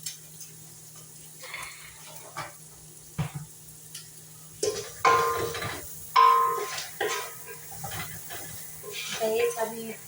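Mustard oil and cumin seeds sizzle quietly in a pan while a utensil stirs and scrapes in scattered bursts, the frying growing busier and louder in the second half.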